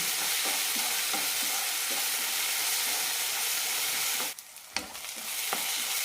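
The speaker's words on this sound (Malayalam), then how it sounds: "തക്കാളി നന്നായി വെന്തുടയണം" Tomatoes fry in a pan for onion kurma curry, a steady close sizzle with periodic scraping stirs, then a brief lull before the spoon clatters and stirring resumes.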